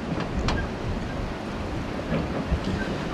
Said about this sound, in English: a storm starting to develop